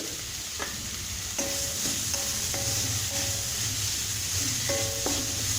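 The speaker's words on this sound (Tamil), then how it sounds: "இது தக்காளி நல்லா வதங்கணுங்க." Tomatoes sautéing in a pan with rock salt, giving a steady sizzle under a low background hum, broken by a few brief clinks of a spoon stirring against the pan.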